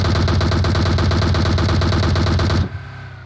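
Rapid, evenly spaced automatic gunfire from PUBG Mobile rattles loudly for about two and a half seconds, then cuts off abruptly, leaving a faint low hum.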